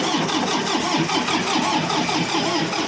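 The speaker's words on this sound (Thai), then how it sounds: "เดี๋ยวลองใช้สตาร์ทเครื่อง" A used Yanmar tractor diesel engine is starting up and running, a loud, continuous rhythmic chugging that stays close and steady throughout.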